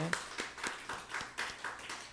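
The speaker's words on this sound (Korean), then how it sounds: "수고하신 모든 분들 박수 한번 하겠습니다." A church congregation claps together in a quick, fairly regular rhythm, a short run of distinct, moderately quiet claps from a modest group.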